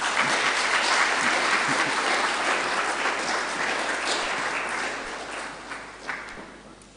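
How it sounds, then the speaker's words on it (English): An audience at a university inaugural lecture breaks into a sustained round of applause, dense clapping that stays strong at first, then gradually thins out, leaving a few scattered claps at the end. "Another round of applause first."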